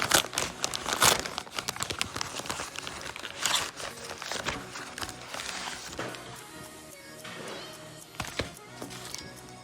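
A paper envelope holding iPhone 7 replacement screen protectors crinkles and tears open, busy crackling rustles close up that come in bursts and then settle into quieter rustling.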